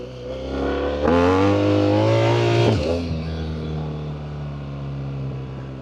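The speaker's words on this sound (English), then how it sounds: "Man, when you downshift, it sounds really nice." Downshifting on a BMW R1300GS motorcycle with a Black Widow exhaust: a loud, close rev flares up and holds, then drops sharply into a lower, steady engine drone as the gear changes.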